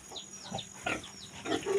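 Pig grunts on a farm, a few short low snorts and grunts scattered over a second or two, moderately close, with faint bird chirps and rustling in the background.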